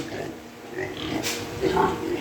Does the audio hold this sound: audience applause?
no